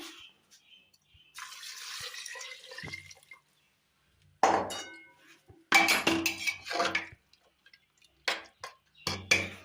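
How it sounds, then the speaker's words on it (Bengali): Hot water poured onto mutton in a pressure cooker comes through in short splashy bursts of liquid, mixed with metallic clinks of pot and utensils, close and fairly quiet with gaps between. "মাংসতে গরম জল দিয়ে দিচ্ছি।"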